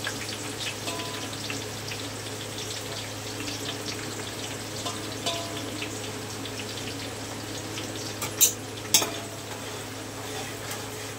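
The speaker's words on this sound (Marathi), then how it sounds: "तर आपण कांद्याला थोडंसं हलकं लाल करून घेऊया" Chopped onion fries gently in a pan, a soft continuous sizzle with occasional light stirring clicks over a steady background hum.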